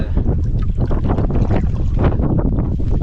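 Wind blows hard across a lake during a canoe trip, buffeting the microphone in a loud, continuous roar with gusty fluctuations and water sounds beneath.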